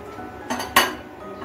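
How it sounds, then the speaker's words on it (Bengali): A spoon stirs sago payesh, a milky pudding, in a pot on the stove, striking the metal pot in two quick, close clinks over a quiet background. "অনবরত নেড়ে চেড়ে ফুটিয়ে নিচ্ছি।"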